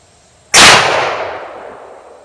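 A single loud gunshot with Underwood ammunition fired at a safe, a sharp close blast followed by a long decaying ring that fades over about two seconds, no talking.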